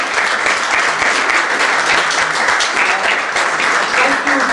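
An audience at an evening debate on state terrorism and human rights in Libya gives the speakers a loud, sustained round of applause that fills the room without letup.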